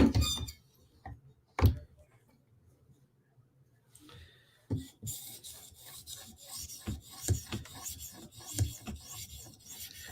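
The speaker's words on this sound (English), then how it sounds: "I'll use an 800 grit stone" A Spyderco knife blade is drawn across an 800 grit sharpening stone, first in a few isolated scrapes and then in a quicker run of rhythmic rasping strokes, close and fairly quiet.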